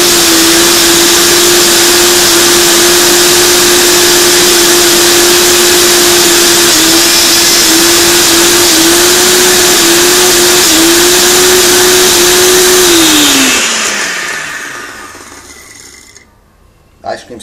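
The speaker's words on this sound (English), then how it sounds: "So I'm gonna click on Ice Crush and let's see how it goes" A blender on its ice crush setting whirs loudly and steadily while blending an Oreo shake with ice cream, its motor holding a constant pitch before winding down and stopping near the end.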